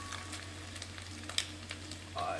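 Bacon sizzling and crisping in a frying pan, a steady soft crackle with scattered pops throughout, close but fairly quiet, with no talking over it.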